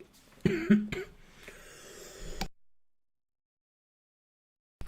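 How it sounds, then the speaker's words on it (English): A close, harsh cough and throat clearing from a podcast host, a couple of raspy bursts followed by a drawn-out clearing rasp, then silence. "I had a cough, something out of my throat"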